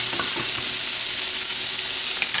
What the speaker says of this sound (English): you're going to want to get a pan hot with that tablespoon of olive oil. And then we're going to add our steak in here.